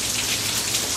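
Steady rain falls outdoors, a dense, even patter of drops on surfaces that holds constant with no talking over it.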